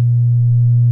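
Steady 50 hertz hum picked up from a blinking light through a sound lens, a continuous buzzing low tone held evenly and loud, alone with no other sounds.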